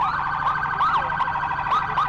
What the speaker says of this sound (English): And Rachel, the sirens work.